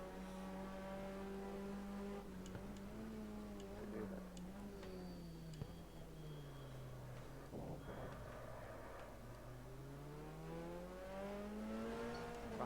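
Racing cars with engines droning and rising and falling in pitch as they accelerate and ease off, heard faintly from a distance over a constant low hum, with a few small ticks.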